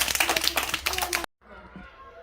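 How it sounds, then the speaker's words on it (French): Kindergarten children applaud together in a classroom during a reading session, a dense burst of clapping that stops abruptly, followed by quieter room sound. "On t'applaudit."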